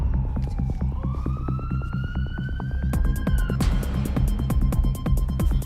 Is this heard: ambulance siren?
yes